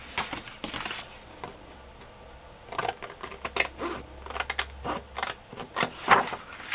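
Scissors snipping through paper while a printed picture of a woman with a blue ribbon is cut out, giving irregular crisp clicks and rustles close by, with quiet gaps between cuts.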